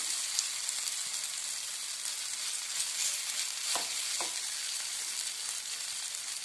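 Spinach paratha frying in an oiled pan gives a steady, close, even sizzle with a couple of faint scraping touches midway and no voices.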